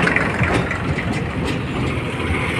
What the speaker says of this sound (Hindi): ये बसें आ रही हैं